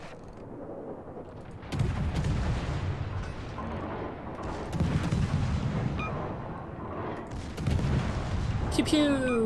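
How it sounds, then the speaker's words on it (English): Naval gunfire from warships in World of Warships during a destroyer-on-destroyer engagement, heard as three heavy booming salvos with rumbling decay, each rising from quieter background and the last followed by sharp high metallic tones. "Pew pew!"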